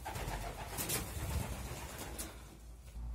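Homing pigeons in a loft give soft low cooing, faint and close, a few murmuring coos over a quiet background.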